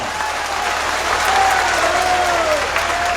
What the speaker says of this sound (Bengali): একবার হাততালি হয়ে যাক জুডিশিয়ারির জন্য